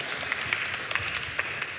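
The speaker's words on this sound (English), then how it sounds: "Can I get a hand clap?" Audience applause and hand clapping from a church congregation during a Sunday sermon, a steady moderate wash of many hands with scattered sharper individual claps throughout.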